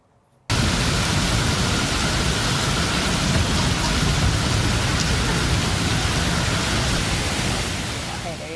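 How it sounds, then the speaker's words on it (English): Heavy monsoon storm rain pours down across the Phoenix valley in Arizona, a loud, dense, unbroken hiss that starts abruptly and holds steady, easing slightly at the close. "Less dust this time, a lot more rain, as you can tell."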